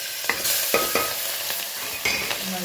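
Mustard seeds, cumin, asafoetida, red chili powder and turmeric sizzle in hot oil, close and fairly loud, as a spoon scrapes the pan in several quick strokes, with no talking.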